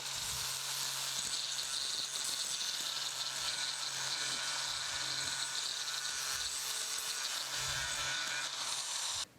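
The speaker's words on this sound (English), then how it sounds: "This is just a sandpaper flap wheel, and we'll get in here and kind of smooth things out" A continuous harsh, hissing grind of a sandpaper flap wheel against a cast metal bandsaw part, steady and fairly loud throughout with no pauses.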